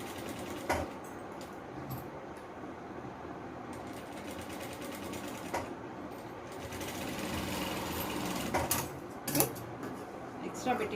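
A sewing machine runs steadily while stitching a simple frock, its low continuous hum punctuated by a few sharp clicks and knocks, close but fairly quiet.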